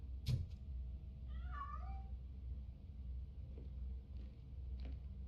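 A cat meows once in RoboCop: Rogue City, a short rising-and-falling call at moderate distance, heard over a steady low game ambience with a few faint clicks and thumps and no talking.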